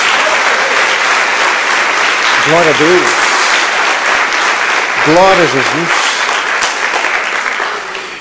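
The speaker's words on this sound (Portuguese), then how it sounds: "Dá uma salva de palmas a Jesus." A church congregation claps steadily throughout, a dense wash of applause with worshippers' voices calling out over it.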